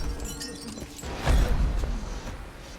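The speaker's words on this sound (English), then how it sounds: "Suddenly, Chica breaks the glass and pulls him inside." A sharp glass-breaking crash bursts out about halfway through a short animated scene, loud and close, with brief clatter after it in an otherwise dark, rumbling background.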